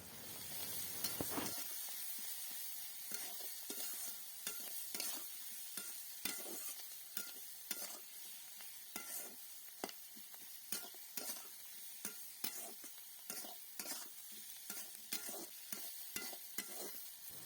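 Onion, garlic, ginger paste and spices with turmeric, chili powder and salt frying in a pan, a steady close sizzle broken by repeated scraping stirs at an irregular rhythm, with no talking.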